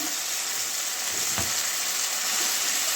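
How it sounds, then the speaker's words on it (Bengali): Boiled, drained taro greens go into a hot pan with oil, giving a steady close sizzle throughout and one brief soft clatter partway through as they land, with no talk. "এবারে এই যে সিদ্ধ করে রাখা কচুচারটা দিয়ে দেবো"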